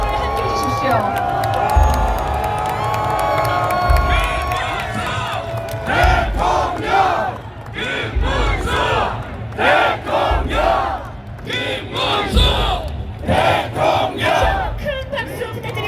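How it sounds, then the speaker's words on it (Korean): Crowd at a political rally for a candidate, cheering and shouting in loud waves, with a voice over a loudspeaker talking through parts of it and bursts of whoops from the crowd. "시민 여러분 큰 박수와 함성으로 우리 김문수 후보를 함께 해주십시오."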